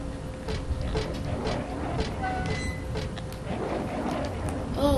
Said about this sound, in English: Spinning around a valve.